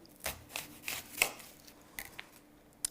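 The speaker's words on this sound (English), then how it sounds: "So we need to chop some red onion." Knife chopping red onion on a board, several soft irregular chops and cuts spaced over a few seconds, quiet and close, with no talking.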